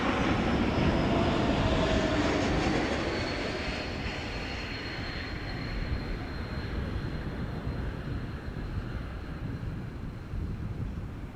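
An Emirates A380 airliner arriving at Amsterdam Schiphol gives a broad, heavy engine roar that is loudest at first and slowly fades as it passes, with some wind rumble on the microphone.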